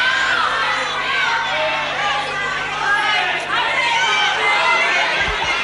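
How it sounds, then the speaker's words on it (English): Wrestling crowd shouting and jeering at the referee, a dense, loud wall of overlapping voices and chatter that sustains throughout. "The crowd shouting, "What about it, ref?""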